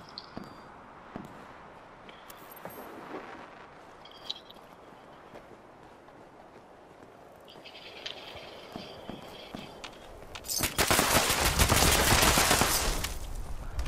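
Gunfire in Fallout 76 rakes the player: a muffled run of shots and hoofbeat-like impacts in the first part builds into a loud, dense burst of rapid automatic fire near the end.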